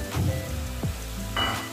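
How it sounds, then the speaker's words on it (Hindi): Tomatoes tipped into a hot frying pan with jackfruit curry, a soft thud and a surge of sizzling that keeps crackling steadily, close up with no talking. "अब इसमें मैं टमाटर डालूंगी"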